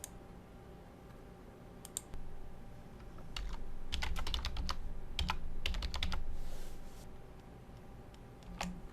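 Bursts of keystrokes on a computer keyboard as a password is entered, clustered clicks of varying speed with short pauses, close and clear over a quiet room hum.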